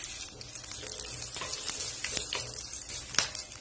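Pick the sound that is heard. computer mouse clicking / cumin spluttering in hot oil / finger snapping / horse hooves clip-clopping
cumin spluttering in hot oil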